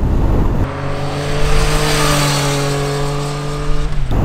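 A Yamaha Niken three-wheeled motorcycle with quick shift pulls under way, its engine a loud, steady drone that climbs in pitch through a gear change, with wind noise around it.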